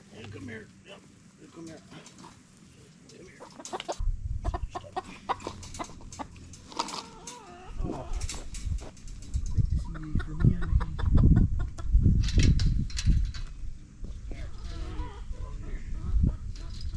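A Buff Orpington hen and other chickens clucking in and around a backyard coop, intermittent close calls and murmurs over a busy background, with a person talking through much of it.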